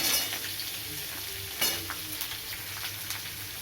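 Chopped onion hitting hot tempering oil seasoned with panch phoron and crushed whole garam masala, a loud continuous sizzle with a few stirring clatters.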